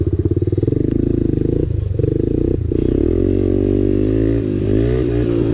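A three-wheeler ATV engine runs loud and close for several seconds while being bump started, a steady motorcycle-like drone with harmonic buzz, two brief dips as it stutters, then settling into a continuous idle-like hum.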